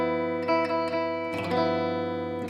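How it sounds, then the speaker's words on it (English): A thirteenth chord played on guitar, its rich sustained notes ringing with a few strummed re-attacks, fairly quiet and alone with no talk. "And a 13 chord sounds like this."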